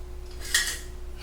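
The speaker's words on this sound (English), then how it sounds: "Cut him a little biscuit here." A knife cuts a crispy-bottomed homemade biscuit on a plate, making one short, close scrape and clink against the plate over a low background hum.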